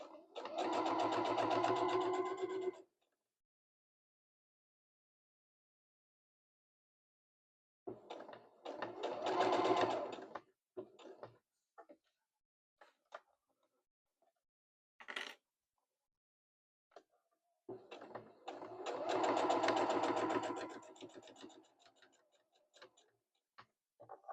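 A sewing machine stitching through fabric and batting, three bursts of fast, rhythmic needle chatter separated by pauses with small clicks, close and fairly quiet.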